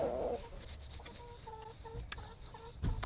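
Backyard chickens cluck softly nearby in a coop, a few short, low murmuring calls spaced across a quiet yard with light rustling.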